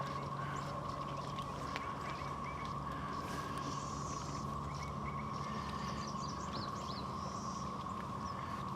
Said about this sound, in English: I know y'all hear the cicadas